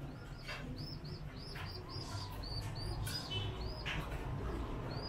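Pigeons in a loft give repeated soft coos and chirps at a steady pace, with occasional wing flaps over a constant low background hum. No one speaks.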